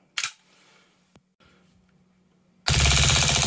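Armorer Works VX0200 Glock 18C gas airsoft pistol running on green gas: one sharp crack early on, a quiet stretch, then a loud, dense full-auto burst at roughly 17 rounds per second that runs to the end.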